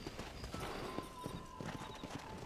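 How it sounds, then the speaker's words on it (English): Horse hooves clip-clop steadily in Red Dead Redemption on Xbox One, a quick even rhythm of near hoof strikes on a trail, with a brief whinny partway through. "Got our horse here."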